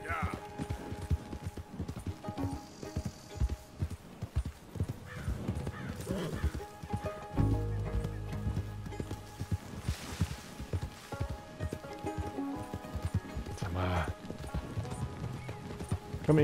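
Horse hooves clip-clop steadily in Red Dead Redemption 2, with a horse neighing partway through, all under ongoing game music and voices talking over the action.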